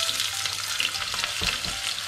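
Chopped onion sizzles in hot oil in a cooking pot, a steady close crackle and hiss with a few stirring knocks.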